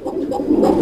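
Arabian pigeons give a short, low, throaty coo at close range, loud and alone for under a second.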